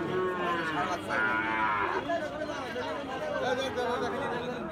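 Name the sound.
Gir cattle bull calf mooing at a livestock market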